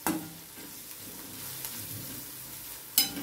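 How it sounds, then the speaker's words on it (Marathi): Turmeric and spice masala being stirred in a pan for a pea recipe, with a soft steady sizzle, faint scraping, and a sharper clack of the utensil near the end. "परत 1-2 मिनिटं असं मस्त हलवून घ्यायचे"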